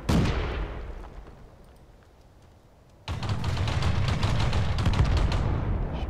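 A tank cannon fires in the game World of Tanks: a loud blast that decays into a long rumble, then a second heavy, sustained burst of booming gunfire.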